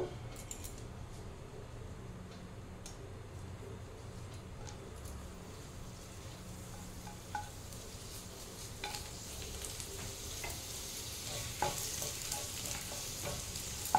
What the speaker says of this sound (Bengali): তেলটা একটু গরম হলে আমি পাঁপড়টা ছেড়ে দেবো।